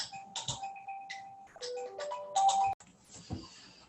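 A telephone rings with an incoming call, playing a bright melodic electronic ringtone in repeated bursts of notes, clear and fairly close.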